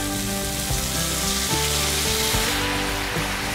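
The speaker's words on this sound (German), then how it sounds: "für etwas extra Würze kommt jetzt ein bisschen Sojasauce in die Pfanne" Neck steaks sizzle and fry in a pan after a splash of soy sauce, a loud, dense crackling hiss with small pops and stirring scrapes running throughout.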